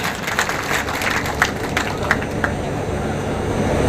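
Loud crowd applause at a railway station ceremony in Chauri Chaura marking a new intercity train stop, a dense, continuous wash of clapping with a few sharper claps standing out.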